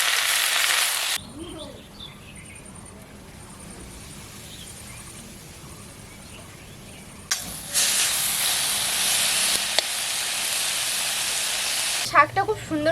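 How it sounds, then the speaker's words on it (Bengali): Kharkol leaves with turmeric and salt fry in a pan with a loud, bright sizzling hiss that opens the clip, fades to a low simmer, then surges back strongly. Someone talks over it in places. "এখন এই শাকটাকে ভালো করে ভেজে নেব।"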